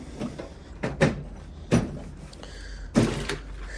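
A drawer in a garage workshop, used for electrical gear, is handled with a few soft knocks and thunks, a sliding rattle, and a firmer bump as it opens, all fairly quiet and close.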